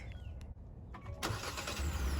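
A 2022 Kia K5 GT-Line remote-starts: a quiet hum, a few clicks, then the engine catches with a sharp surge and settles into a steady, fairly loud idle.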